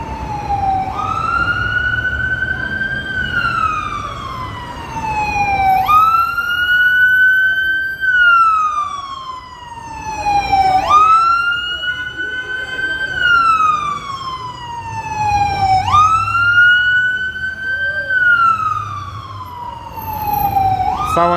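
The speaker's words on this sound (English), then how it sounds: "I think it's the ambulance going through." An ambulance siren wails through gridlocked Manhattan traffic, a loud, close, slowly rising and falling tone repeating about every five seconds, over low traffic rumble.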